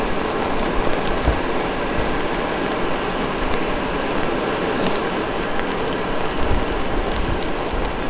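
Heavy rain falls steadily and close, a dense continuous hiss and patter on surfaces with occasional low rumbles, and no talking.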